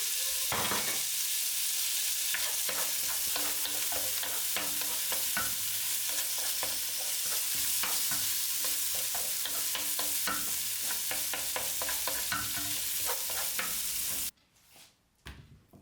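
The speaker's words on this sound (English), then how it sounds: "Give it a good stir and let it fry for a short moment." Diced smoked meat and sautéed onions fry in a hot pan, a loud, constant sizzle dotted with scraping stir strokes, ending abruptly into near silence.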